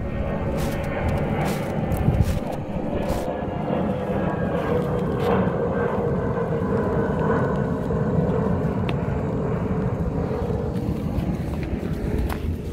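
A steady, droning airplane engine rumble fills the scene, constant and fairly loud, with faint clicks and bumps along the way.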